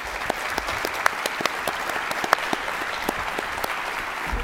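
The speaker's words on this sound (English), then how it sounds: "let's give them all a round of applause." An audience applauds panelists at the close of a policy discussion on immigration, a dense wash of clapping with distinct individual claps popping out, sustained and even for the whole stretch, no voices.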